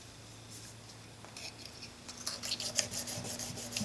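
A plane blade is rubbed back and forth on a sharpening stone in quiet scraping strokes, soft at first and then louder in a quick rasping rhythm close to the mic.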